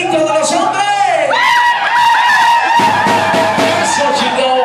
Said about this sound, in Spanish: ese pinche grito de los hombres